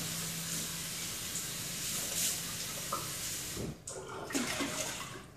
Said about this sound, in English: And then rinse it one more time.